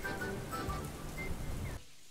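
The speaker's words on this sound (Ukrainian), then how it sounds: "дощ ще посилився і непохідні кросівки стали мокрими" Heavy subtropical rain falls steadily in the Italian Alps, a dense close patter of drops on surfaces that cuts off abruptly near the end.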